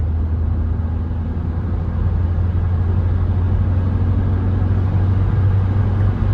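A Ford Tourneo Courier drives along the road, its engine and tyre rumble a steady, loud low drone heard from inside the cabin throughout.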